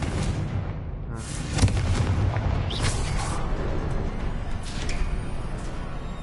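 Confringo fire spell explosion in the Hogwarts Legacy video game, a dense, rumbling blast with a sharp burst near the start, followed by sustained booming crackle and scattered magical whooshes.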